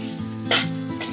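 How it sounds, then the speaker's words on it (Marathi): Modak filling of grated coconut sautéing in ghee in a pan, a steady close sizzle with a brief brighter stirring scrape midway. "हे आता आपल्याला परतून घ्यायचं तुपामध्ये"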